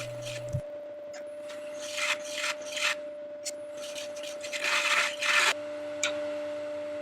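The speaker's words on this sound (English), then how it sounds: "make this surface level using my Simon Hope square negative rake scraper." Intermittent rasping scrapes of a square negative rake scraper against a spinning oak tray on a lathe, in short uneven bursts over a steady motor hum.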